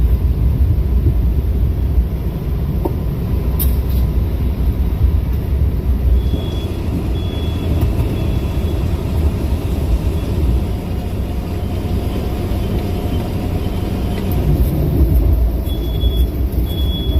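Heavy, continuous low rumble of a train heard from inside its locomotive cab, a steady loud engine and rail roar with faint hissing and brief high whines drifting in and out, no voices.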